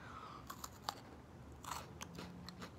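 Crunchy Japanese Kit Kat candy mixed with white chocolate is chewed close to the mic, giving a few quiet crisp bites and crunches spread irregularly over a few seconds with no talk.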